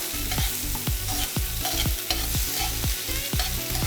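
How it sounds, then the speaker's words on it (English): Mashed plantain is stirred and broken up in a sizzling pan of quesadilla filling, with a steady rhythmic scraping of the spoon over continuous frying crackle, close and loud. "You want to kind of break up the plantain in here."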